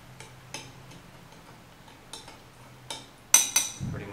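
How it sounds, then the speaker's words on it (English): A spoon stirs calcium powder in a glass of water, giving a series of sparse, light clinks and taps against the glass that grow louder near the end. "Just empty that out, give it a quick stir."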